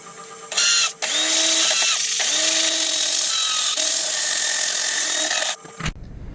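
A Stanley FatMax power drill whines steadily at high speed for several seconds while woodturning an oak and resin platter, stopping briefly near the start, then cutting out with a clunk at the end.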